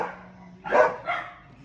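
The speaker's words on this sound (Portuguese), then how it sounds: "os meus cachorros enlouquecidos porque lá na frente está passando um gato" Pet dogs bark in front of a house at a cat passing outside, a couple of loud, close barks with a short gap between them.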